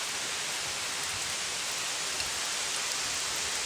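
Steady rain falls at night, a constant, even hiss of drops on surfaces, moderately soft and unbroken, with no voices.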